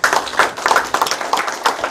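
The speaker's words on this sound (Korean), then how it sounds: "박수" A small audience at a town visit meeting with local residents claps in a short, uneven burst of separate hand claps, close by and fairly loud.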